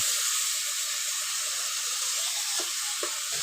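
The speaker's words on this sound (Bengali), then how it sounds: "আর এদিকে পেঁয়াজ রসুন দিলাম ভেজে নিচ্ছে" Onion and garlic fry in a pan with a steady, close sizzling hiss that runs unbroken throughout, with a few faint clicks near the end.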